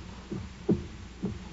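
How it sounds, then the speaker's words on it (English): Muffled, low heartbeat thumps in an otherwise quiet space, about four soft beats at a slow, slightly uneven pace, dull and close with no talking. "But for many minutes, the heart beat on"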